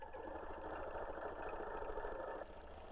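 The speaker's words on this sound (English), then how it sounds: "that's why you saw me move just a touch as those lock stitches were forming" A quilting sewing machine runs steadily, forming tiny lock stitches set four to under an eighth of an inch, with a continuous mid-pitched whir that drops slightly near the end.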